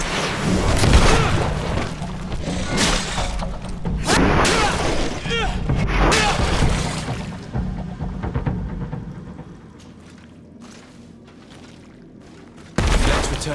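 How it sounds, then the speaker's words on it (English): Heavy booming blasts and rumbling explosions from grenades in the fantasy RPG GreedFall, several loud bursts over about eight seconds with crackling debris, fading to quiet before a final sharp hit, with voices mixed in. "Watch out! Grenade!"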